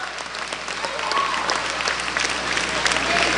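Sustained crowd applause fills a high school basketball gym between Madison Central and South Laurel while seniors are honored, a dense, steady wash of clapping with a faint voice underneath.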